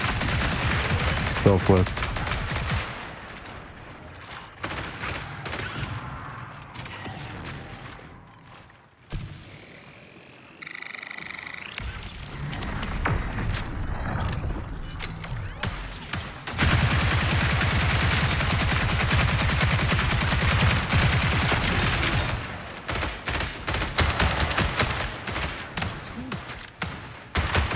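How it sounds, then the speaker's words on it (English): Bursts of video game gunfire crack and rattle in a loot-focused shooter, dense and loud through much of the stretch, with a player's voice talking over the shots. "There is some shooting on the SW."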